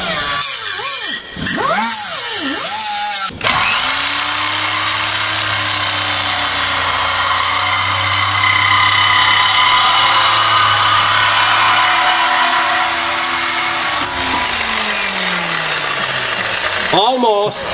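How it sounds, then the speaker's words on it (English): A power saw cuts through seized bolts on a Mazda/Ford Ranger, a loud sustained whine with a steady drone running for about ten seconds after a few brief starts, then stopping near the end. "we're cutting the bolts off because they're just spinning"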